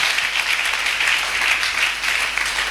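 A church congregation applauds in a steady, dense wash of clapping that fills the whole stretch evenly, with no voice standing out.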